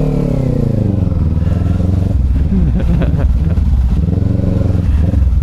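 A small motorcycle is ridden with its engine droning loudly and steadily up close, keeping a throaty, slightly rattling tone from start to finish.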